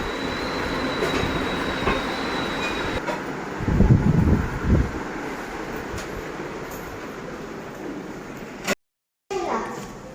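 A train rumbles past at close range, its wagons clattering over the rails with a clickety-clack rhythm and a brief wheel squeal, the sound swelling loudest midway while people talk nearby.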